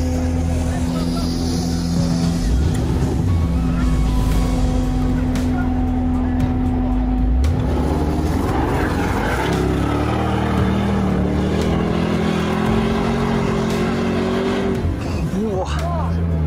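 A 5.0-litre V8 off-road vehicle revs hard and accelerates, a loud, sustained engine roar that climbs in pitch through the gears and stays close, with excited talk over it.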